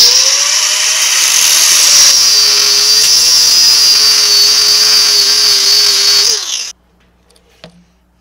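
A power tool grinds through a truck tie rod end on an OBS Chevy solid axle build, a loud, sustained high-pitched whine with a steady tone that cuts off abruptly near the end, followed by faint clatter.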